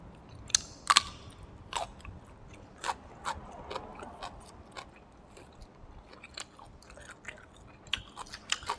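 Crisp, close crunching bites of crispy fried fish eaten with sticky rice, irregular sharp crackles spaced through a quiet background.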